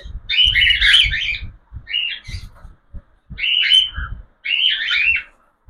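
Cockatiels in cages give loud, close, repeated chirping calls in four bursts separated by short gaps, with low rustling and knocks in between.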